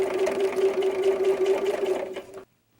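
A sewing machine runs steadily, stitching hook and loop tape onto a doll diaper, a continuous close whirring hum for about two seconds before stopping abruptly.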